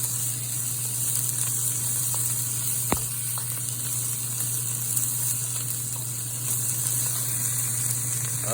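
Mushrooms and green onions sizzle in a pan for fried rice, a steady hiss running throughout under a constant electrical hum, with one brief knock partway through and no voices.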